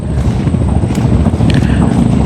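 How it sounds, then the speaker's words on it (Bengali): Fishing trawler engines rumble steadily across the water in the Sundarbans near Purba Dhalchar at dusk, a dense continuous low drone with wind noise, no talk. "চারদিকে শুধু জেলেদের ট্রলারের সাউন্ড আসতেছে"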